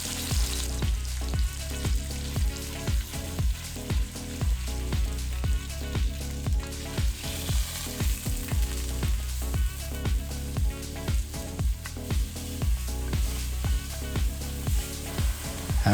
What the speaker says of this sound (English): Here I'm using olive oil, and then we're gonna add our ground turkey into the pan.